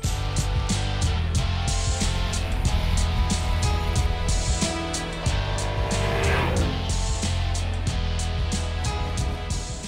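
An Audi RS5 coupe accelerates hard on a track, its engine roaring steadily with a dense droning tone and rising pitch, loud and close for the whole stretch, and no talk over it.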